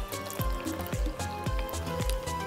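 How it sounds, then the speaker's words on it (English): Water pours into a flour mixture in a mixing bowl for pumpkin pasties, giving close, wet trickling and splashing with repeated low liquid plops in an uneven rhythm. "make a well in the middle of our mixture and put in a 1/3 cup of water"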